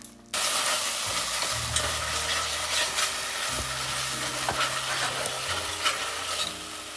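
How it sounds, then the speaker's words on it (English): Heavy cream and cream cheese are whisked in a saucepan over heat, a steady close scraping and bubbling sizzle that starts abruptly and runs throughout, with occasional clinks and no voices. "we're just going to keep whisking that to make sure that it doesn't get any lumps in it"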